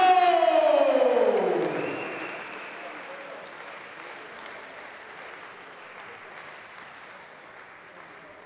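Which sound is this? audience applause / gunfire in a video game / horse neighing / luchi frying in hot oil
audience applause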